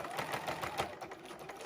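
A sewing machine stitches free-motion quilting on a baby quilt, making a quiet, steady whirring hum with soft needle pulses and no speech over it.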